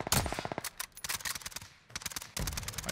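Rapid bursts of automatic gunfire in Call of Duty Warzone, close and loud, firing in quick rattling volleys with a short pause midway.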